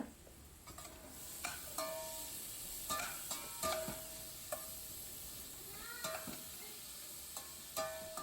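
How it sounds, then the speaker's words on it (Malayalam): Beetroot and salt are stirred and sautéed in a pan for Kerala-style beetroot pachadi. Repeated scraping spoon strokes sound over a soft, steady sizzle, close and fairly quiet, with no talking. "ബീറ്റ്റൂട്ട് ചേർത്ത് കൊടുക്കാം എന്നിട്ട് പാകത്തിന് ഉപ്പും കൂടെ ചേർത്ത് നന്നായിട്ട് ഒന്ന് കൂട്ടി യോജിപ്പിച്ച് നന്നായി വഴറ്റുക"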